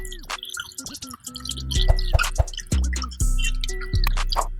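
Water draining through a small hole in a bag to separate it from cooking oil sitting on top, heard as loud, close drips and splats in an irregular rhythm with squishy liquid sounds.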